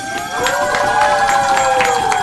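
A crowd at a street Malanka folk performance in Kyiv claps and cheers, a lively mass of hands and raised voices under a held musical tone, fairly loud and close.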